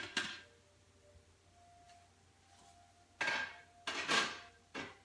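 A slow cooker holding pinto beans that have cooked for about four hours is lifted and handled, giving a few loud clattering knocks of lid and crock in separate bursts, with a quiet hum between them.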